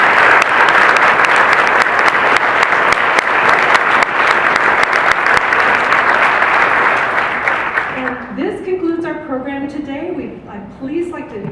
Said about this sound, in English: Join me in a warm round of applause for the committee members, the volunteers, and the sponsors.